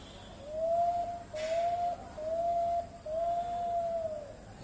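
A man imitates male and female pigeon calls with his voice on a stage, four drawn-out whistled coos in a row, clear and close over a quiet background.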